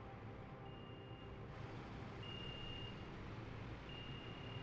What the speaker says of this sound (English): It's making the same beeping noises as the other coal power plant.